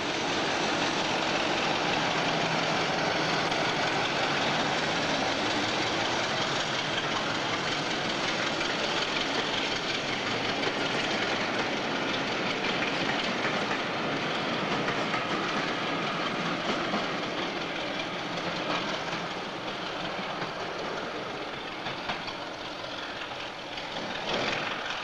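A British Rail diesel locomotive rumbles past at a steady, moderate distance, a continuous broadband engine roar with faint rail clatter and no voices.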